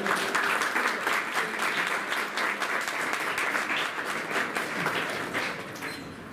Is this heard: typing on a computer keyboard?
no